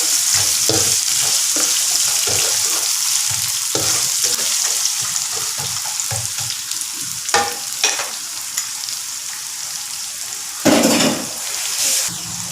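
Onion sautéing in a hot pan for Malaysian-style fried yellow noodles: a loud, continuous oily sizzle with repeated scraping strokes of a spatula and a few sharper knocks near the end.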